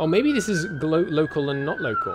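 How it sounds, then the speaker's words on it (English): A police siren drifts in through an open window on a hot day, a steady wailing tone held under a man's nearby speech throughout. "Sorry about the siren."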